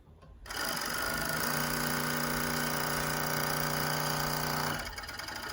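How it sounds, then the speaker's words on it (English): A Jack W4 cover stitch sewing machine running with three needles: a steady, loud, high-pitched mechanical whir that starts abruptly, holds evenly for about four seconds, then winds down. "It's sewing beautiful."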